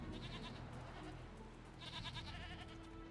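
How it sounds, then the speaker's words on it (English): Goats bleating in the video game Jade Empire, a couple of faint wavering bleats, one early and a longer one later, over a low background ambience. "There's a bunch of goats in here."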